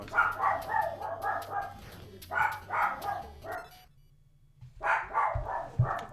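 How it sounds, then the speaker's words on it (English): Dogs barking indoors: a series of sharp, close barks in quick bursts, a pause of near silence, then another rapid run of barks, with no talk over them. "fucking dogs."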